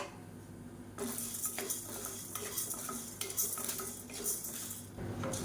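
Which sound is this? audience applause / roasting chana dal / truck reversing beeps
roasting chana dal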